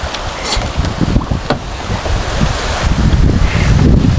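Wind buffets the microphone in loud, uneven gusts on open water, aboard a small net-fishing boat in the rain, with a rough rushing noise underneath.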